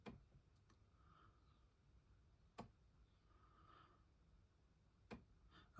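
A Gotek floppy emulator fitted in an Amiga 500/1200 gives faint, sparse clicks at irregular intervals over a quiet background hum, with no one speaking.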